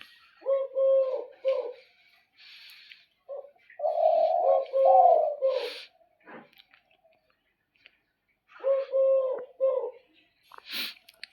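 A spotted dove coos at its nest in short bursts of soft, low hollow notes, repeated three times with pauses between, close by and clear over a quiet background with a few faint rustles.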